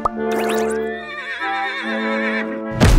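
Cartoon-style horse neigh, a loud, close whinny with a rising, wavering, shaky pitch lasting about three seconds, ending in a short noisy burst.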